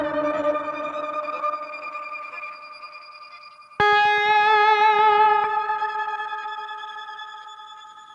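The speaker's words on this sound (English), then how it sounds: "that peculiar noise is the shimmer reverb" Shimmer reverb effect, a sustained bright droning wash of stacked high tones; a new chord swells in abruptly midway, glistening and wavering before gradually decaying, loud and alone.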